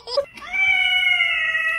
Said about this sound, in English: The cat making that noise, though.